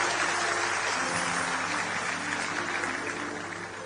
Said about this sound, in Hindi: आपकी तालियां कमजोर पड़ गई हैं